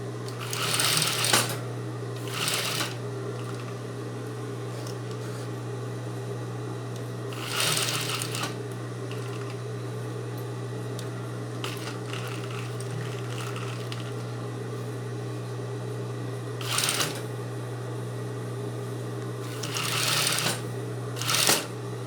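Domestic sewing machine stitching a zipper, a steady fast mechanical whir under quieter background, interrupted by several short louder bursts of rattling clatter spread across the stretch.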